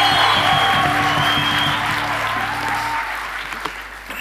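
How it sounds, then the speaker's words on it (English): Graduates at a spring graduation ceremony give a loud, sustained round of applause that fills the hall, then slowly tapers off as the clapping thins out. "the graduates, please give yourselves a warm, warm round of applause"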